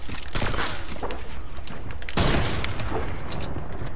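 Rapid gunfire in the video game Fortnite, a dense, loud burst of shots continuing through the clip with a sharp louder volley midway.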